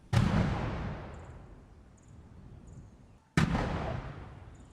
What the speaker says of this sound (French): Après pour 21 coups de canon